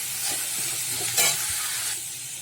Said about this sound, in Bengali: ওই লাউয়ের খোসা ভাজবো, দিয়ে দিলাম এর মধ্যে, দিয়ে নেড়ে চেড়ে নিচ্ছি